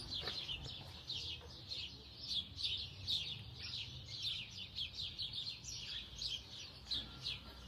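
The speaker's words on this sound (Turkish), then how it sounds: "Kuş sesleri ne güzel ya." Many small birds chirp and tweet continuously among dense trees near the sea, a busy, fairly faint chorus of quick repeated high calls over low background rumble.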